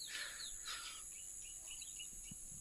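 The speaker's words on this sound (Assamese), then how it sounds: "চৰাই চিৰিকটিৰ মাত শুনা পায়" Birds chirp and insects trill in green countryside, light scattered calls over a faint steady insect hum, quiet and distant with no voices.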